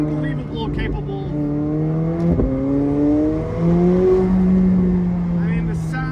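A McLaren 765LT Spider, an MSO car, driven hard on the Tail of the Dragon mountain road, its engine a steady loud drone whose pitch climbs and falls with throttle, with one sharp click midway.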